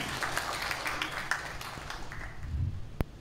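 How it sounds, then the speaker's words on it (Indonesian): An audience claps for a regency head at an awards ceremony held in a regency pendopo hall in Nganjuk. The applause is a steady, moderately loud patter lasting about three seconds, ending with one sharp knock. "Tepuk tangan untuk Bupati kita"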